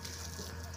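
Water from a tanker pours into a village water tank in a steady, close gushing stream, brief and continuous with no talk over it.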